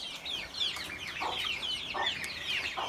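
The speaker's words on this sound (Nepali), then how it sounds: "टर्की र लोकल कुखुरा गिरिराज हो" Farm chickens, including local Giriraj hens, cluck and chirp steadily at close range in a coop alongside turkeys, with occasional short louder calls.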